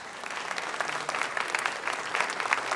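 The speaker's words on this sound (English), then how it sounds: "Give these kids a round of applause." A studio audience applauds quiz contestants on a televised high school quiz show, a continuous, even patter of many hands clapping at moderate distance, with no speech over it.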